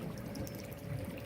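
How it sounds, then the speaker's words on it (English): Water flowing slowly through a line into a tank, a faint, steady trickle and low gurgle that runs continuously at a quiet level. "And very slowly the water comes in here."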